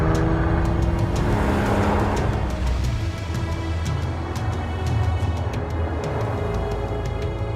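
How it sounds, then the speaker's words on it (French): The rear-mounted flat-six engine of a Porsche 911 Carrera (991) drones at moderate level with a smooth, steady note that swells slightly and settles, accompanied by faint ticking and clicking sounds. "des flat 6 arrière à rendement élevé, qui se reconnaissent à leur sonorité éminemment Porsche"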